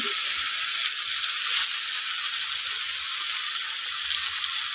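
Taro stems (kochur chhori) fry in a pan with a steady, loud, hissing sizzle that holds evenly throughout, with faint stirring scrapes underneath.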